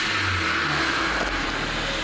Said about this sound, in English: first start up with the new blow-off valve. Ooh, okay. Let's try a light rev.